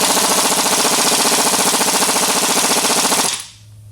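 A pneumatic impact gun hammers in one rapid, loud, continuous burst for about three seconds, then stops abruptly. It is working on a 6.0 Powerstroke diesel engine teardown, and the gun is worn and not hitting right.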